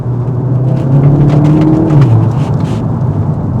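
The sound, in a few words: modded 2018 VW Golf GTI accelerating in third gear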